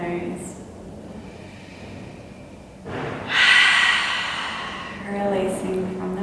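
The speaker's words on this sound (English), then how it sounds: "Taking an inhale through the nose" A slow, audible nasal inhale during a guided yoga session before Shavasana rises at mid-clip and lasts about two seconds, with quiet talk around it.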